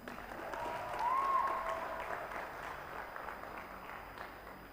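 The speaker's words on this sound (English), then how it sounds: "Please give a round of applause to Retinzi" Audience applause fills a room at a talk, a broad steady wash of many hands clapping that swells early and then slowly fades, with no speech over it.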